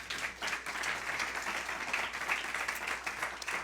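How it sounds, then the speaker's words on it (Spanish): A church congregation applauding during a Spanish-language sermon: a steady, even wash of many hands clapping, heard faintly and at a distance throughout. "Dale un aplauso al Señor."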